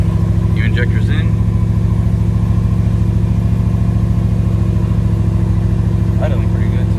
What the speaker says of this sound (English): Idling pretty good too.